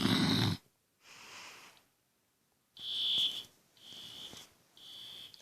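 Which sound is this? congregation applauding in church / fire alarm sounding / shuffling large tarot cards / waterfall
fire alarm sounding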